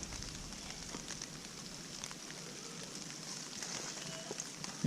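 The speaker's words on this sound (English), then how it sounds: "Starting to rain." Light rain starting to fall outdoors in the woods makes a faint, steady patter and hiss, with scattered soft taps spread evenly across the stretch.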